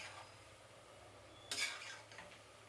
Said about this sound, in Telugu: అక్కడే నిలబడుకొని ఇలా కలుపుతూ ఉండండి